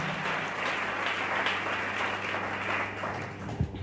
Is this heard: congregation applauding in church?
yes